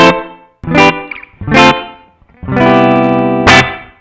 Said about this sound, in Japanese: こんな感じであまり残響の残らない音にできます。